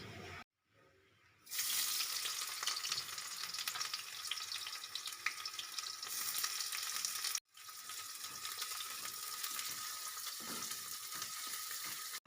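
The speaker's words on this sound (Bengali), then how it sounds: "তেল গরম হয়ে গেছে এবার আমি দিয়ে দেবো কুচিয়ে রাখা পেঁয়াজ" Loud, steady sizzling of chopped onions frying in hot oil, starting abruptly after a brief quiet moment and continuing with a short break midway.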